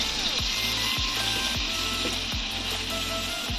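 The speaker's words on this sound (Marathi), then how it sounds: "थोडं तेल घालायचं आणि बटर घालते आहे" Oil and butter sizzle steadily in a pan while a street-style paneer frankie is being assembled, a constant hiss broken by a few soft knocks and scrapes, close by with no voices.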